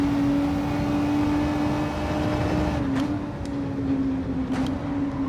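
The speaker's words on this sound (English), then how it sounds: "Car sounds good." A seventh-gear race car engine in a racing video game drones at a steady high pitch, loud and close, with a slight dip near the middle and faint ticking clicks over the continuous hum.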